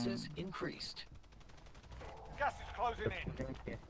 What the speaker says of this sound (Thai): ใครมันยิง